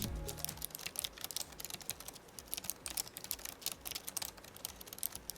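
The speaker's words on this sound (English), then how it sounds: "the stars of the show here is the Omron Switch mechanical keyboard" Fast, crisp clicking of keys on the Omron-switch mechanical keyboard of an Aorus 15G laptop, a dense rapid patter of close, bright taps with no talking.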